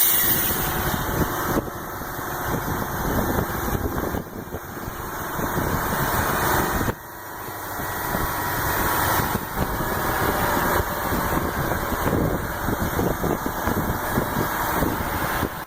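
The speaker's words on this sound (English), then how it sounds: "You can hear that engine just purring, not even breaking a sweat." A heavy-duty recovery truck's engine runs steadily under load while pulling a tanker out of deep mud, a loud continuous diesel rumble with a slight dip partway through.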